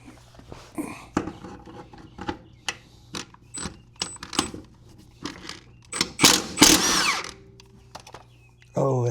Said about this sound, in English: That's why you shouldn't use an impact wrench.